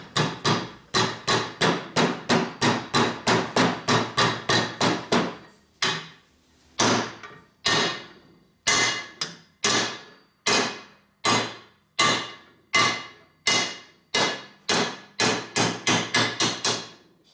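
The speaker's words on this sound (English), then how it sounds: "So if you take your hammer," A soft hammer taps on a transmission part during a 2004 Harley-Davidson FLHT Twin Cam touring motorcycle rebuild, first in a rapid regular run of sharp knocks, then in slower, unevenly spaced blows, loud and close with no talking.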